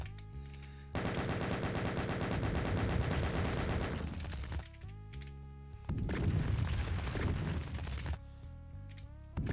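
Rapid, dense weapon fire and explosions from the video game Doom blast in two long loud stretches over droning synth music, separated by brief quieter gaps.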